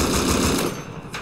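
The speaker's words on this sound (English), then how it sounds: "I wonder if it's the explosive bullets that are doing all the damage" Rapid gunfire with explosive bullets aimed at a helicopter in the video game Rust, a quick loud burst of shots lasting about a second.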